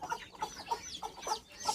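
A grey hen and a rooster cluck in short, quick, repeated calls, close by and fairly quiet, a run of about six soft clucks.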